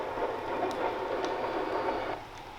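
A Lionel model train's built-in sound effects play at the lowest volume setting, giving a soft, continuous rolling rumble with a few faint clicks and no talk.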